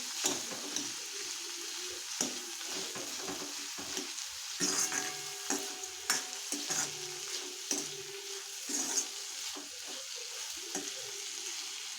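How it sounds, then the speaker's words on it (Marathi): Chopped onion sautés slowly in a pan over low heat for a horse gram dish, a steady soft sizzle with occasional stirring scrapes, close and continuous, no voices. "लालसलकर कलर येईपर्यंत छान परतून घ्यायचा आहे कमी गॅसवरती"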